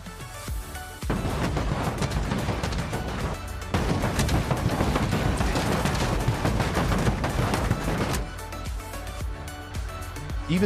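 Rapid gunfire aimed at a car's fuel tank in the driving game BeamNG.drive, dense bursts of repeated shots over several seconds, loud and close, pausing briefly before resuming.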